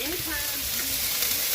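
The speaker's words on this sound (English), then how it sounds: "Listen to that sizzle." Food sizzles loudly and steadily in a hot pan during a day of bulk home cooking in a kitchen, a continuous close frying hiss with no break.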